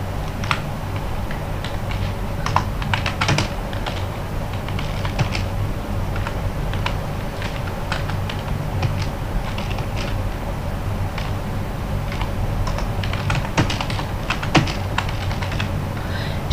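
Irregular clicking of fingers typing on a computer keyboard, close and clear, with uneven bursts of keystrokes and short pauses throughout, no voices.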